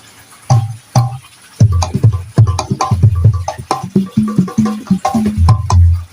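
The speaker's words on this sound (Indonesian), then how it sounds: "Biasanya gendang loop itu akan bunyinya seperti ini." A programmed gendang drum loop from a keyboard with deep hand-drum thumps and sharp slaps in a steady, repeating groove, loud and close with no voices.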